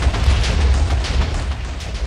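Combustion-bending explosions from a modded Avatar game blast in a continuous low rumbling roar of overlapping booms, loud and sustained across the whole stretch.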